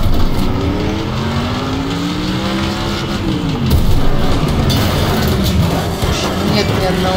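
A car driving on a missing wheel in the Next Car Game racing video game, with a loud steady engine drone whose pitch sweeps up and down under continuous talk.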